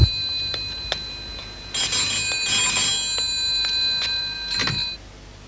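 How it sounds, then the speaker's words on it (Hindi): An electronic telephone ring repeats in bursts, a bright trilling tone sounding twice with short pauses, alone and fairly close. "प्रीति का फोन आया था।"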